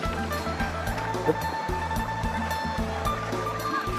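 Water flows across farmland at Sapan Bun in Pai, Thailand, heading down toward a waterfall, making a steady, close rushing wash with a low rumbling undertone throughout.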